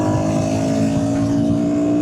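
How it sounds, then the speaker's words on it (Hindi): A Royal Enfield Guerrilla motorcycle engine runs steadily and loudly up close, a continuous throbbing drone with no break, heard while riding. "But what a beautiful engine this is."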